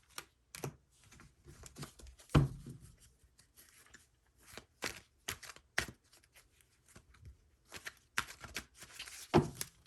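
Tarot cards being shuffled by hand in quiet, making a run of soft, irregular papery riffles and slaps, with a few sharper snaps standing out among them.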